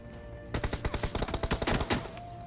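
Gunfire crackles in a mobile shooter video game, a rapid automatic burst of a dozen or more close, sharp shots over about a second and a half, with no voices.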